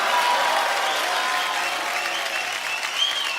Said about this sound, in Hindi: एक बार जोरदार तालियां आदित्य, वरुण, सोनाक्षी और आलिया के लिए